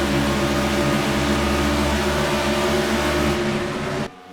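Race cars on the track at Michigan roar past with a loud, sustained engine drone that holds a steady pitch, then cuts off abruptly near the end.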